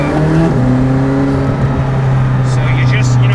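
A McLaren Senna engine drones loudly, with the revs stepping up at the start into a steady, powerful hum, and a voice is heard over it.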